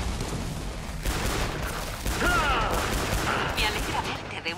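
Video game gunfire crackles as a dense, continuous burst of rapid shots at fairly close range, with a louder stretch partway through and faint game effects over it.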